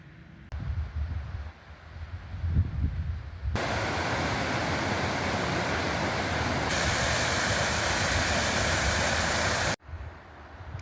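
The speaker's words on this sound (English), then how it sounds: "that's where all that bog water goes down to, that big old river down there" Big old river rushing down a beautiful valley, a steady broadband roar of flowing water that swells and holds loud and constant for several seconds before cutting off abruptly, with softer ambient wind-like noise at the start and end.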